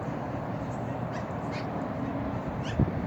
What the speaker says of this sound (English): This magpie bird is smart.